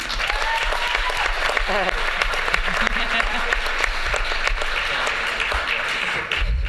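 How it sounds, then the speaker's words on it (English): A crowd at a juvenile justice summit applauds warmly, with dense, steady clapping while voices talk and call out over it. "because you can hear it, in the applause also, right?"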